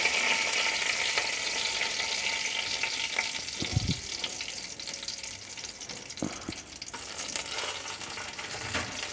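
Bay leaf and dried red chillies frying in a spoonful of hot oil, a soft continuous sizzle with a few brief clinks and stirring scrapes in the middle.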